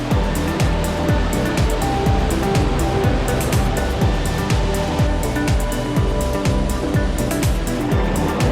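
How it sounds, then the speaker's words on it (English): Mae Ya Waterfall in Chiang Mai, Thailand, one of the country's largest falls, roars as a dense, loud, continuous rush of water with irregular splashing bursts throughout, close by and with no voices. "we'll get to see the second biggest waterfall in Thailand"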